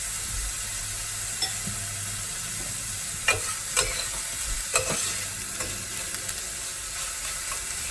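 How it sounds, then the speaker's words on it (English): Eggplant sautés in a pan on an RV stove with a steady, close sizzle and a few scraping stir sounds and light clinks over it. "It's supposed to be sauteing, not frying."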